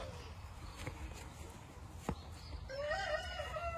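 A blue ermine Sussex bantam rooster crows at moderate distance near the end, a rising, wavering call over a faint outdoor background with a few soft clucks and knocks before it.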